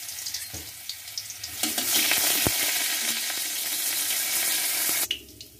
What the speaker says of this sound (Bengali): রসুনটা ভাজা ভাজা হতে আদা দিয়ে দিলাম